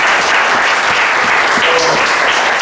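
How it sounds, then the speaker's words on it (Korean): Applause from a church congregation during a Sunday service, a dense, loud, steady wash of clapping filling the whole stretch with no voices rising above it. "박수 한번 합시다."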